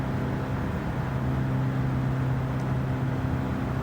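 Mazda6 car horn in Gran Turismo 7, a steady sustained tone with low harmonic bands, droning without a break at moderate loudness and with no voices.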